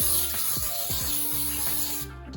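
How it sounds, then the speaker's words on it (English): A few short spritzes of Pam cooking spray onto a baking pan for a pound cake, close hissing bursts with brief gaps between them, ending in quiet. "One more quick little spray."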